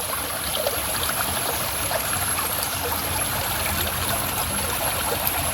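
Stream water at Olippara Waterfalls flows down over rocks in a steady, continuous rush, close and full, with no voices over it.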